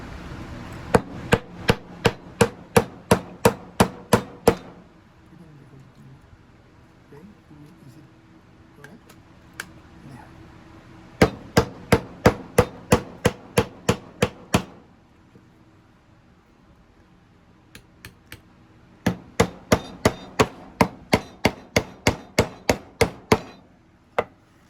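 Sharp, evenly spaced hammer strikes drive nails into a cedar birdhouse, coming in three quick bursts of about ten to fifteen blows each, with quiet pauses between the bursts.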